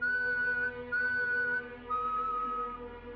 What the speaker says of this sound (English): 3 long whistles, then silence.